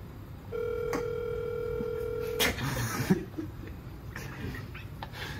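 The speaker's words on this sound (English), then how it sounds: "Phone is ringing." A telephone rings during a Who Wants to Be a Millionaire phone-a-friend moment with a single steady electronic tone of about two seconds, followed by clicks, rustling and a brief laugh-like noise.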